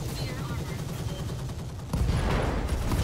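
Mech weapons in the RogueTech BattleTech video game fire in a dense barrage, a steady rattle of shots that grows louder midway, with a voice faintly underneath.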